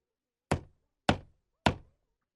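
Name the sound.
knocking on a wooden door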